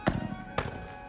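Two sharp impacts on Inujima island, each followed by a brief echo bouncing off nearby walls, spaced about half a second apart, faint and without talk.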